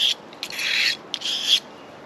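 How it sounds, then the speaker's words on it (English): Blade of a Stanley 10-049 pocket knife being sharpened: two close, rasping strokes, each about half a second long, with brief scrapes before them. "Sharpen the blade up."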